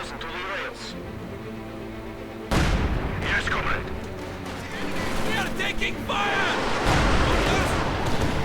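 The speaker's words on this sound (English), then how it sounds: "Katyusha arriving." Katyusha rocket artillery in the real-time strategy game Company of Heroes 2 lands as a sudden barrage of booming impacts and crackling blasts midway through, under a commentator's talk and other battle sounds.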